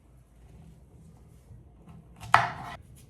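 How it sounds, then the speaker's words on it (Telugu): A knife chops through okra on a cutting board in a single crisp, close cut after a quiet stretch, leaving a short fading scrape. "ఇప్పుడు చూపిస్తున్న విధంగా ఈ బెండకాయల్ని కట్ చేసుకోండి."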